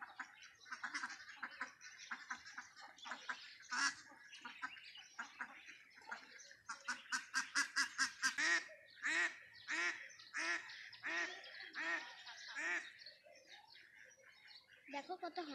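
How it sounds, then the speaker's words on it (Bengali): A flock of ducks quacks and honks repeatedly beside a village pond in rural Bengal, the calls loud and overlapping in bursts, with people talking at times. "দেখো কত হাঁসের দল।"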